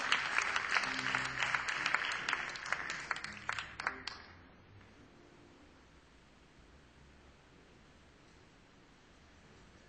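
A hall audience at an awards event gives a round of applause for the First Lady of Redstone Group, moderate clapping that fades out after about four seconds into near silence.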